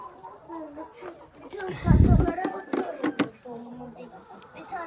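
A broody Turkish hen clucks in low, repeated murmurs while a person talks over it, with a louder burst of noise partway through.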